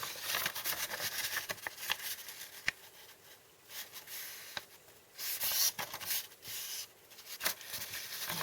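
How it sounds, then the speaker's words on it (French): Paper is creased and folded for a pop-up Christmas card, giving soft broadband rustles, rubs and sharp crinkle ticks that come in irregular bursts, close and moderately quiet, with no talking. "Une fois vos plis tracés, vous les pliez."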